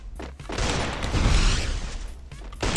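Headshot gunfire in Garena Free Fire, a dense, loud burst of shots and booming impacts lasting a couple of seconds before cutting off.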